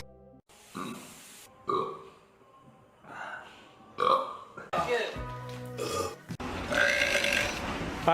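A young man burps repeatedly, close and fairly loud, a string of croaky belches with gasps and breaths between them, building to longer rasping ones.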